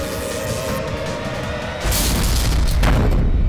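A deep, heavy boom hits partway through as a lift suddenly jolts in a crime-drama scene, following a low steady hum and leaving a loud rumbling resonance.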